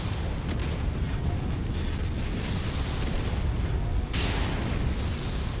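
Gunfire hammering a player's mech in Mechwarrior 5, a dense continuous barrage of impacts and booms with a fresh burst near the end, heavy and loud throughout.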